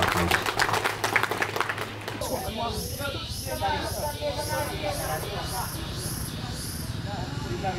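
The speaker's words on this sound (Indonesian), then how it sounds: "Ini kita aplaus." Audience applause at a gathering, clapping mixed with a speaker's voice, steady and moderately loud through the moment.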